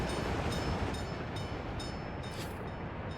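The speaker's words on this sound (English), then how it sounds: "That train will definitely need one more go, so I can let it be." A train in the video game Workers & Resources rolls along with a continuous rumble and faint, regular clicking, steady and moderately quiet with no speech.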